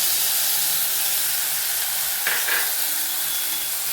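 Tomato puree fries in a pan for street-style batani chaat, giving a steady, close hiss with a brief rise of stirring and spattering partway through, and no talking.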